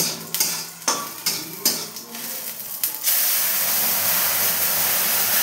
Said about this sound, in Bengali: এখন আমি ঝোলটা ঢেলে নেব।